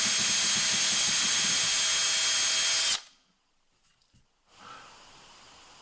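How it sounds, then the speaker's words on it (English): Power drill boring holes into a guitar body for a bridge, a loud continuous whirring hiss for about three seconds that cuts off abruptly, followed by near silence and a faint rustle. "You want to drill as straight as possible down into the body"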